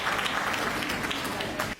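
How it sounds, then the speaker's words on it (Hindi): An audience at a public speech breaks into dense, loud applause that fills the whole stretch, then cuts off abruptly at the end. "मैं चाहता हूं आप अपने सम्मान में एक बार जोरदार तालियां बजाइए"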